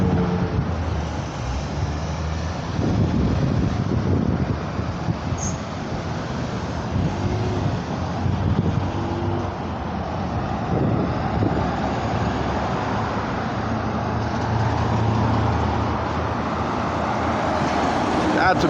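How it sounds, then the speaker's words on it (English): Steady roar of traffic on a busy road at a red light with cars stopped, a broad rumble of engines and passing vehicles throughout, with a voice talking over it at times. "Yeah, so I'm on a pretty busy road"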